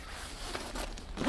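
A zipper on the fabric door of a lightweight ice fishing hut is pulled in one quick, smooth rasping stroke, close and clear, with a slight tug at the end.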